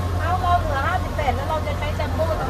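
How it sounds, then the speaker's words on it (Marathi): A vehicle engine hums low and steady as it pulls away on Coral Island, Thailand, while people talk over it close by. "चला गाडी निघाली बाबा."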